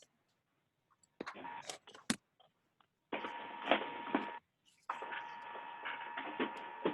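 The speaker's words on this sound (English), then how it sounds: "I'm shuffling papers around." Bursts of dry paper rustling and shuffling, close by, during a school district committee meeting, in several stretches separated by short pauses, with a few sharp taps.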